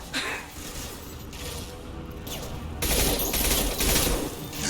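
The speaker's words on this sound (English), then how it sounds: "Firing a high-impact shot!" A heavy, high-impact gunshot fired in the Mass Effect video game, with broadband bursts of shooting and crashing debris, louder toward the end, set against game effects.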